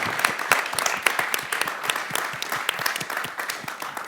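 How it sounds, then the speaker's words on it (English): A meetup audience for a CocoaHeads developer gathering hosted by Sveriges Radio applauds with brisk, close, distinct hand claps that continue steadily throughout. "please give a huge applause for Marthin"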